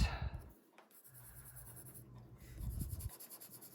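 A pencil scratches and rubs steadily across paper while coloring skin tones, a close, quiet, continuous grainy scraping with soft strokes.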